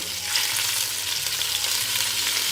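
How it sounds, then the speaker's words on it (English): Pork pieces searing in a hot oiled pan for Filipino pork adobo, giving a steady, close, broadband sizzle and crackle that runs throughout with no talk over it. "All right, pork in. Get some color on it."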